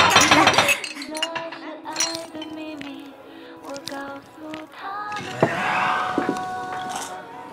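Glasses clink together in a toast at a five-year class reunion in a bar, with a cluster of bright chimes at the start, then ringing tones and voices afterward.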